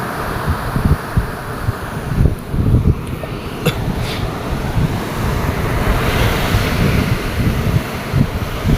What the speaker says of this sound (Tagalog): Critical ang alon.